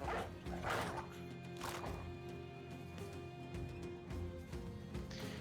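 Dogs in the Battle Brothers video game bark and yip in several bursts over a continuous game music bed, moderately loud and clear.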